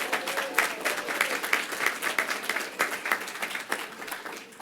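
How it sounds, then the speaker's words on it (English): Applause from a small crowd at the grand opening press conference of a wine shop, steady dense clapping that holds for several seconds, then thins and tapers toward the end. "Let's make sure we do give a round of applause to Regina Gaines, Dr. Andrea Dunbar, and Terry Mullins,"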